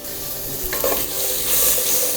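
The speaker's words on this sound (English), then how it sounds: "my rendang curry is been now cooked slowly" Malaysian rendang curry thick with onion paste and herbs cooking slowly in a pan on low heat, a dense close sizzle with scraping stirring strokes, loud and alone.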